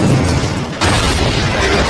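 A film explosion near a submarine dock, heard as a loud, dense broadband roar that dips briefly and then surges again, filling the whole clip with no talking.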